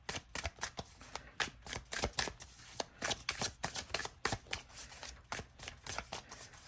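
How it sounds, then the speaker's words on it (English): Tarot cards are shuffled in quick repeated riffles, a steady run of crisp flicking bursts close by with no one speaking. "Shuffle's really good."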